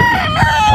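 A rooster crows on a big chicken breeding farm, a loud, close, drawn-out call with harmonic wavering, heard alone with no voices over it.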